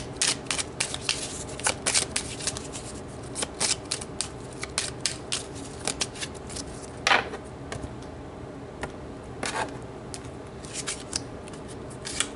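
Tarot cards being shuffled and pulled by hand, a run of soft riffling bursts and papery snaps, quiet and close, with brief louder slaps and no talk.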